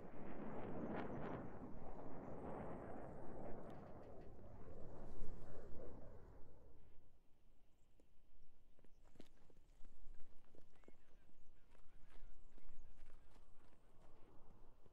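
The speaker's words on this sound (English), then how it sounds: "I hear footsteps." Footsteps in the video game Squad, a run of quick rhythmic steps over a rumbling, windy ambience that drops away midway, leaving lighter scattered steps and faint clicks, moderately distant and quiet.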